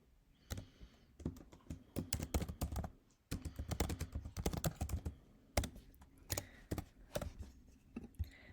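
Typing on a computer keyboard while entering a title and description into show management software, with rapid irregular key clicks in bursts and brief pauses, close and clear with no talking.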